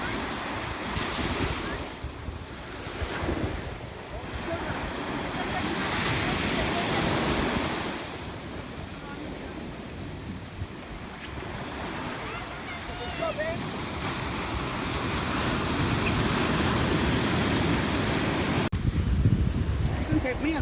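Ocean waves break and wash onto a Costa Rica surfing beach, with surges of surf and wind buffeting the microphone. The sound rolls continuously throughout, and faint voices come in now and then.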